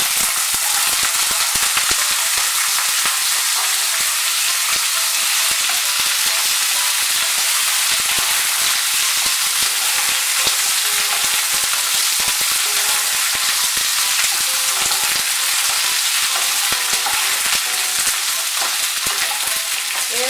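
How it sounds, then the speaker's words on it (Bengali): Black cumin seeds and chopped green beans sizzling in hot oil, a dense continuous hiss and crackle with occasional stirring, loud and close throughout with no talking. "তেলটা গরম হয়ে গিয়েছে, এর মধ্যে আমি কালো জিরে ফোড়ন দিচ্ছি"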